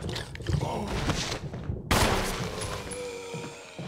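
Rapid bursts of gunfire in the Resident Evil HD video game crackle loudly, cut by a brief silence before another blast of shots.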